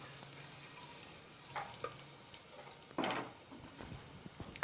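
Whole spices, including cardamom, cinnamon and two dried red chillies, fry in hot oil for a mutton kuzhambu. Faint, scattered sizzles and soft stirring scrapes come in short bursts, with one louder crackle near the middle.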